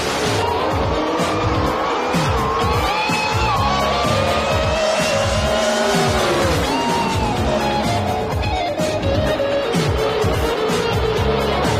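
Jim Oddy's lone Corvette pro modified drag car runs loud and close, engine roaring continuously with rising and falling pitch and tire squeal, amid race-track noise and no clear talk.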